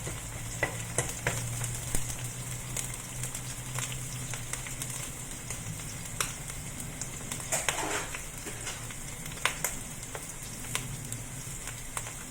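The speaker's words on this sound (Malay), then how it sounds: "Sis akan masukkan bawang putih. Masukkan lebih bawang putih pun sedap lah. Sis kacau dulu." Garlic sizzles steadily in a hot pan for tom yam with coconut water, with a constant close crackle broken by occasional scraping stirs of a utensil.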